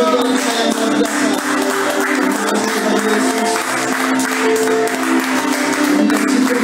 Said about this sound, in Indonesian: Mari kita tepuk tangan bagi Allah sayang luar biasa.